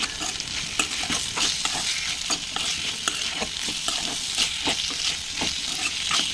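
Bitter gourd frying with onions in a pan gives a steady, close sizzle with rhythmic scraping and stirring strokes throughout, loud and continuous, with no voices.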